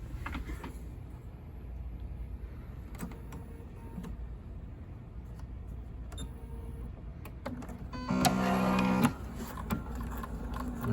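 A Bernina sewing machine with built-in dual feed stitches slowly at first, a soft steady mechanical whir with faint clicks, then a louder burst of rapid stitching near the end.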